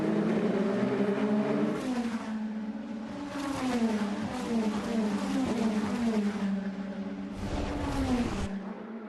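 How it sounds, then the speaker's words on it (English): Onboard an INDY NXT race car on track, a loud continuous engine note rising and falling through gear changes, with a sharp surge of noise near the end and commentary faintly underneath. "This is on board with Chadwick, looking up ahead to Brooks in the green and black car"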